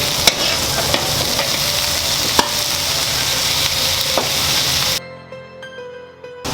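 Carrots and onions fry in a pan with a continuous close sizzle and occasional sharp clicks of a utensil, then the sound drops away to a quieter hiss near the end.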